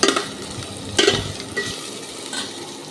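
Cumin seeds, a cinnamon stick, bay leaf and chopped onion fry in a pan for a chicken curry. A soft steady sizzle is broken by several scraping stirs, with no talking.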